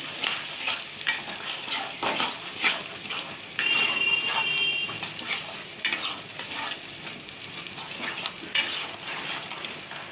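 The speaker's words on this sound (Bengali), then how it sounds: "তো দেখো এখন আমি মশলাটা ঢেলে দিই। এবার তেলের সঙ্গে ভালোভাবে কষে" Spices and chicken frying in oil are stirred in a pan for a Bengali chicken kosha with papaya, loud close sizzling broken by repeated scraping strokes and light clinks of utensil on metal, with no talk.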